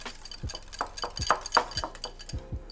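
A whisk clinks briskly against a bowl while a sauce is stirred, a run of sharp metallic taps in an irregular rhythm, close and clear with no talking.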